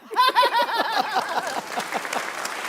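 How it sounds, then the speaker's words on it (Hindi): A few people clap in a quick, uneven rhythm, close and fairly loud at first, with a voice or laughter mixed in. "सबसे पहले तालियां बजाएंगे नजूमी बाबा।"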